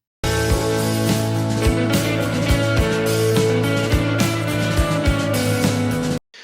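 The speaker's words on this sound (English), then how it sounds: "So that's a really reverby sort of a guitar part." Guitar played with heavy reverb, notes washing into a sustained, dense wall of sound over steady low thumps, loud and continuous.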